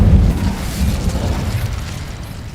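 Incendio fire spell cast in Hogwarts Legacy, a loud deep whooshing burst of flame that erupts at once and rumbles down over a couple of seconds.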